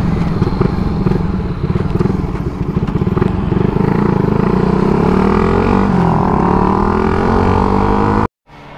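A carbureted Suzuki Raider motorcycle engine revs hard and loud up close, its rough, pulsing idle climbing into a sustained high-pitched scream before cutting off abruptly near the end.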